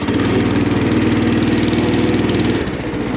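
A clapped-out go-kart engine running steadily with the gas pressed, a loud, close, continuous buzzing drone that eases off slightly near the end, with no talk.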